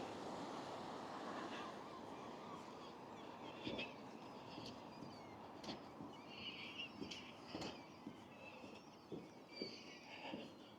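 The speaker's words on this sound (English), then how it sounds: "Oh, I can hear the seagulls." Faint seagull calls carry from a distance over a steady wash of wind and surf on a gloomy Blackpool seafront, growing more frequent toward the end.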